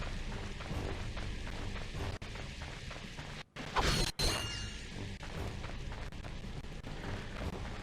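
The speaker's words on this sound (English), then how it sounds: "I wanted to try to see if I can attack the tank with my wrench" A wrench strikes an armored tank in the Ratchet & Clank video game, landing a couple of sharp metallic clangs and crashes around the middle, set against a constant bed of loud game machinery and effects.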